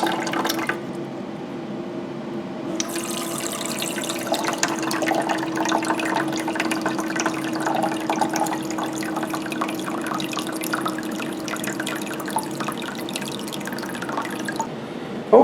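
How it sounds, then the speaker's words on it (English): An icemaker's ice case fills with water, a close, steady trickle with a continuous low hum beneath it, running on alone for the whole stretch. "You can see the water filling up the ice case."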